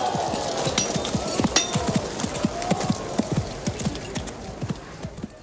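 Galloping horse hooves clip-clop in a quick, steady rhythm during a medieval knights' ring-lancing exercise, loud and close with faint jingling of tack throughout.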